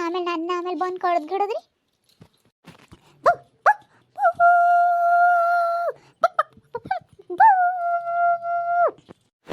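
A woman in a comedy skit imitates a barking dog with her own voice: a burst of strained, yelping cries at the start, followed by speech and short drawn-out vocal calls.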